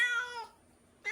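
A pet cat meows twice, close and clear: a long drawn-out cry, a short silence, then the start of another.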